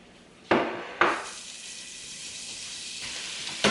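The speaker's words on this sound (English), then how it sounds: "I've got the onions in the pot and they're starting to saute" Onions sautéing in butter and oil in a pot over low heat make a soft, faint sizzle, broken by a few sharp knocks of a spoon or pan near the start and again at the end.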